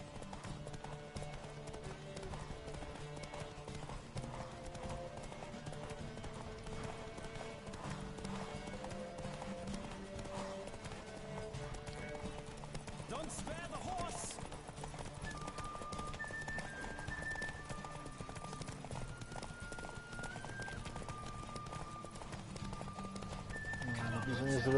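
Horse hooves galloping in The Witcher video game, a rhythmic clip-clop running steadily throughout under game music and someone talking.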